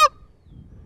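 A single short, loud goose call moan note blown on a goose call, cutting off abruptly into near silence.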